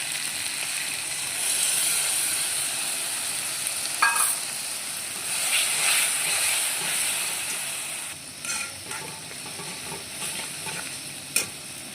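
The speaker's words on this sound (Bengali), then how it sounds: "এবার আমি মশলাটা দিয়ে নেব। এখানে আছে জিরে গুঁড়ো, ধনে গুঁড়ো আর হলুদ গুঁড়ো" Ground cumin, coriander and turmeric fry with tomato in hot oil for an egg curry, giving a loud, steady sizzling hiss with stirring scrapes and a couple of sharp clinks.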